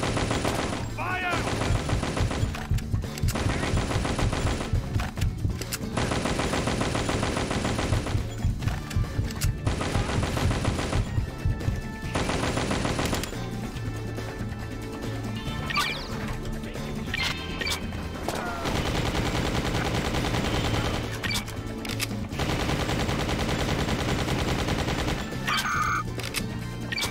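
Weapon fire in the Just Cause action game: long bursts of rapid machine-gun fire stop and start again and again, with crashes and clatter in between, fairly loud.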